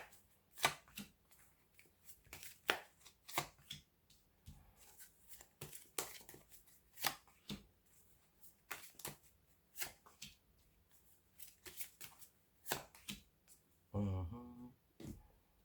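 Tarot cards are shuffled and drawn close by in a quiet room, giving a steady run of crisp slaps and riffles, ending in a short louder flutter.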